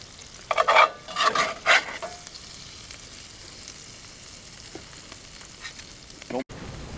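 Applewood smoked bacon frying at a campfire, a steady soft sizzle running throughout beneath a few louder bursts of stirring and scraping early on, with a brief knock near the end.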